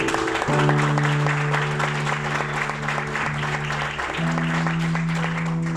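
Congregation clapping during an evangelical church service, steady applause over a sustained organ or keyboard chord.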